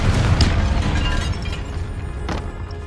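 A Confringo fire spell explodes in the Hogwarts Legacy video game inside a tomb, a loud deep boom that rumbles and fades over a few seconds, with faint debris crackles.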